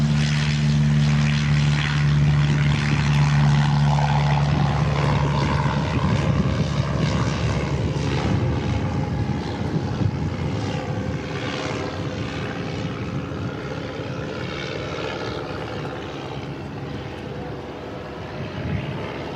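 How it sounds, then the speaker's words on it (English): Boeing C-17A jet engines idling through warm-up, a loud, steady broadband roar with a low droning hum that holds for the whole stretch, near and constant. "It's normally quite loud when it's idling during the engine warm-ups."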